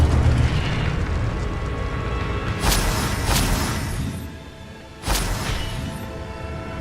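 In the video game Hogwarts Legacy, Incendio fire spells burst over a rumbling background, giving two or three sharp whooshing blasts followed by a louder burst near the end, with no talk.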